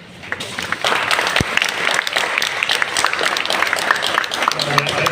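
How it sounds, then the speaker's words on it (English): An audience at a conference speech breaks into clapping that builds quickly and holds as a dense, steady patter, with a voice audible over part of it. "That's nice of you to applaud, but it goes with the territory."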